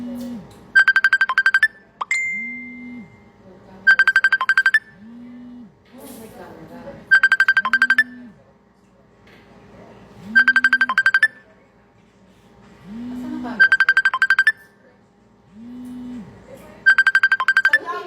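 A phone ringtone sounds as a call is placed, a repeating electronic trill in regular bursts alternating with lower tones, while nearby voices talk in between the rings.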